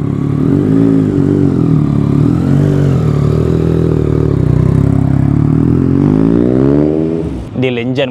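A Yamaha MT-09 V4 fitted with an Akrapovic exhaust and winglets rides by, its loud, steady engine drone rising and falling in pitch with revs for about seven seconds before tapering off.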